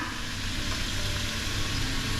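Dried preserved radish is tossed into a hot pan while making pad thai sauce, giving a loud, continuous frying sizzle throughout, with no voices.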